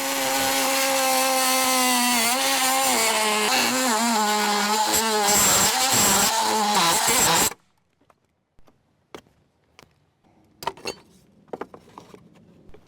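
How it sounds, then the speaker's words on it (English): An oscillating multi-tool cuts rotted exterior bottom door trim, a loud, continuous buzzing whine lasting several seconds before stopping abruptly, followed by scattered light knocks and handling noises. "I'm gonna use my favorite tool in the world, the oscillating tool, and very carefully cut this."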